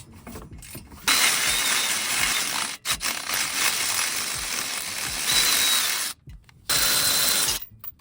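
A ratchet loosens a bolt on a Honda D16 engine, its rapid close clicking running in several sustained bursts separated by short pauses.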